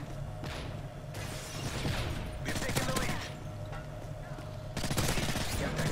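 Rapid MP7 submachine gun fire in Modern Warfare 3 Drop Zone comes in several sustained bursts of clattering shots, with someone talking over much of it.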